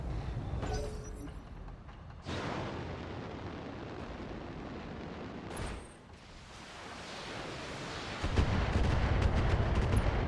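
Mech weapons in BattleTech fire a full salvo at an enemy mech, with dense, sustained booming bursts and rumbling impacts that swell, briefly dip, then surge louder toward the end.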